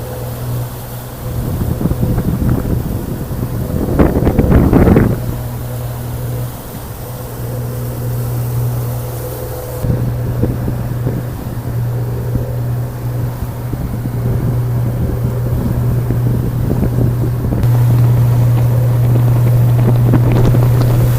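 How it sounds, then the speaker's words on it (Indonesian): Strong wind buffets a boat at sea during a storm with heavy rain, with a steady low engine drone and gusty rumbling bursts, loudest early on, running continuously throughout. "Angin kencang disertai hujan deras."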